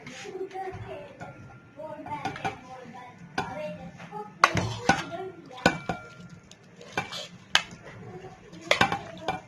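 Russian salad being served onto a dish with clinks and scrapes of a spoon against the plate, irregular utensil taps over a soft background, with people talking in between.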